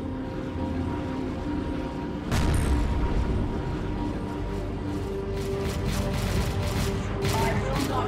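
Gunfire strikes a power generator in Dawn of War III amid a steady battle din, with one sharp impact near the middle and then a run of rapid, crackling shots and bursts over continuous mechanical rumble.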